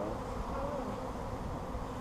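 A dense, continuous drone of honeybees buzzing at a hive during a spring swarm transfer, loud and close with no pauses.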